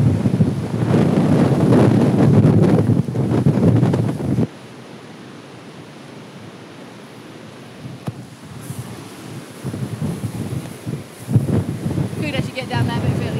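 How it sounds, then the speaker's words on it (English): Strong wind buffets the microphone on a steep, cliff-like slope, a loud roaring blast that drops out suddenly and then returns in gusts, with bits of talk near the end. "And so much wind. So much wind."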